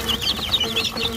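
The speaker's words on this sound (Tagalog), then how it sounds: "napaka-solid ng mga sisiw. Ang lakas kumain." Young chicks eagerly eating feed and competing for food, with rapid high peeping and chirping close up and some soft pecking and shuffling beneath.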